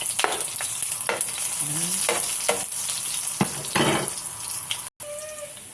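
Beef ribs sautéed in a pan with onion and garlic for caldereta give a continuous close sizzle, punctuated by scraping stir strokes and clinks, with a brief spoken word near the end.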